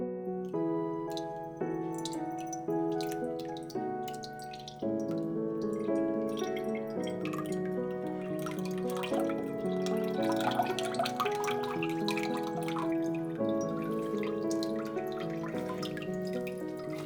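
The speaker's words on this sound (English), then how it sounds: "strain the Kabocha Squash liquid." Liquid from kabocha squash is strained, running in a steady trickling pour with light dripping throughout, close by and alone against a faint background of sustained music.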